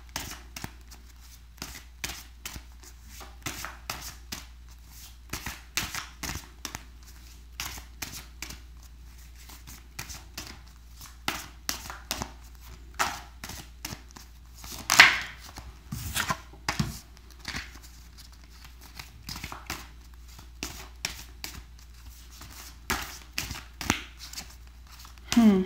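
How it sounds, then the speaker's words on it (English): A deck of tarot cards is shuffled by hand in quick bursts of riffling and sliding, with pauses between bursts and a few sharper snaps, close but soft, with occasional quiet talk. "so 2 or 3 more shuffles"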